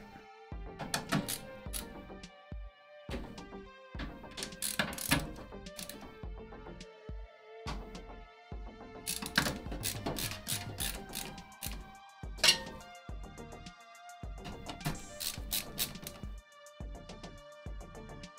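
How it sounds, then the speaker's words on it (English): A screwdriver tightens screws during a PC build, giving quiet close ratcheting clicks and short metallic bursts that repeat irregularly with pauses between them. "we've got almost all these screws in and then we can actually tighten them all down."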